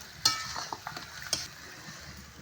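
Chicken frying in a pan with chopped onion, tomato, salt, turmeric and spices, a soft steady sizzle broken by a few sharp scraping stirs and utensil clinks, fairly quiet with no talking.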